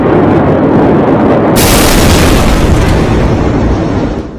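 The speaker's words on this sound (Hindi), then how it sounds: "लेबनान की राजधानी बेरूत में जोरदार धमाका हुआ।" A massive explosion in Beirut, Lebanon, roars as a loud, continuous rumbling blast that swells sharply partway through and slowly tapers off, with no voices over it.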